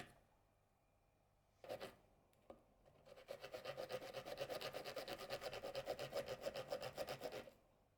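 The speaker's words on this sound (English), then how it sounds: "I need to file it down using my oversized filing tool" A small oversized filing tool scrapes remains off a watch dial during a luxury watch build: a couple of brief scrapes, then a steady, quick rhythmic rasping run for several seconds, quiet and close, with no speech.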